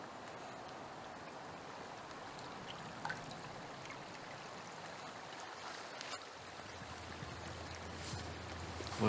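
A river's water flows and trickles softly in a steady, faint wash, with a few small splashes and no voices over it.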